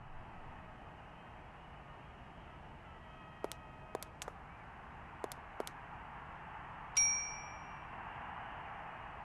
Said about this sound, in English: I can ring the bell.